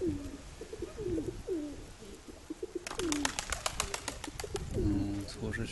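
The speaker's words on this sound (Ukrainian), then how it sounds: "Ось вона голубка, що літала" Soft, repeated coos from a homing pigeon in a low rolling pattern, with fluttering wingbeats partway through as it lands, fairly close against a quiet outdoor background.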